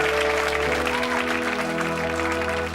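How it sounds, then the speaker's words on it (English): A studio audience applauds Mel and Sue in a dense, continuous wash of clapping, blended with a steady sustained musical tone underneath. "Give them a round of applause, Mel and Sue."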